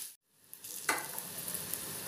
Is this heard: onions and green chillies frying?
yes